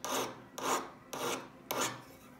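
A yellow gold ring with a fragile stone is sanded by hand in four even, rhythmic rasping strokes, each about half a second long, close up and heard alone.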